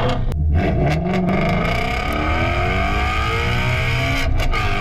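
A Ford Mustang Shelby GT500 with a flat plane crank engine revving loudly and close, its pitch climbing and sweeping through sustained high revs with sharp gear-like shifts in tone.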